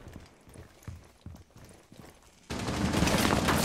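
Sustained burst of gunfire in Rainbow Six Siege ranked play erupts loud and dense after scattered, softer footsteps and impacts, continuing as a steady roar to the end.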